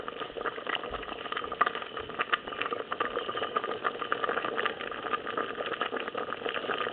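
Quinoa boils in a pot on a stove in a Skokie kitchen, giving a steady, continuous bubbling and hissing with no break throughout.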